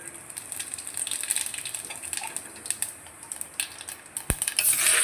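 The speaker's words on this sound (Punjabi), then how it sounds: "ਇੱਧਰ ਤੇਲ ਆ ਜਿਹੜਾ ਆਪਣਾ ਉਹ ਗਰਮ ਹੋ ਗਿਆ ਇਹਦੇ ਵਿੱਚ ਆਪਾਂ ਜੀਰਾ ਪਾਵਾਂਗੇ" Oil crackles and sizzles in a hot pan, with light stirring scrapes and a sharp clink near the end as the frying grows louder.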